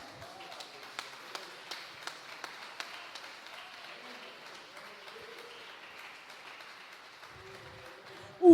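Church congregation at a family worship service clapping, with a few loud sharp claps early over a soft background of scattered applause, fairly quiet and ending abruptly.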